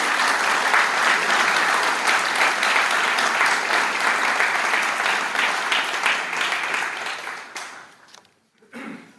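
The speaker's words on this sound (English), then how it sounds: "Let's all give them a round of applause." An audience at a medallion honors ceremony breaks into full, dense applause that carries on for several seconds, then thins and fades to a few scattered claps.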